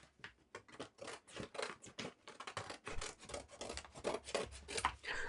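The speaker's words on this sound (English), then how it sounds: "So then we cut out the arms, the leg, and the rest of the gorilla body." Scissors cutting out paper pieces for a homemade gorilla shadow puppet, a steady run of close, dry snipping and rasping strokes that continues without pause and with no talking.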